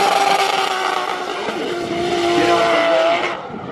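Formula Drift Pro2 cars drift at a Texas event, tires skidding with a loud, continuous roar and screech that fades slightly at the end, with no talking.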